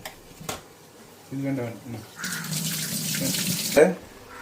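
Rice for biryani being rinsed under a running tap, water splashing steadily into a sink after a few brief knocks, with a voice talking over part of it.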